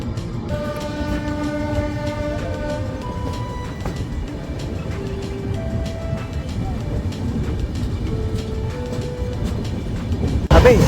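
The Patna Express, running from Ernakulam to Varanasi, rumbles steadily and loudly as sustained horn tones sound over the noise of the wheels.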